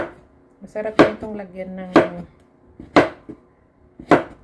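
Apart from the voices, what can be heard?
chopping long squash (upo) with a knife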